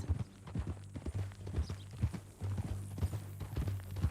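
Horse hooves clip-clopping at a steady walking rhythm in the video game Red Dead Redemption 2, close and moderately loud, with no talk over the regular hoofbeats.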